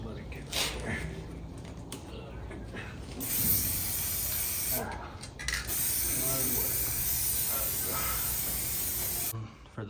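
Spray paint hisses onto an automotive part as a coat is laid on, in long steady bursts with short pauses between, loud and close over a noisy workshop background.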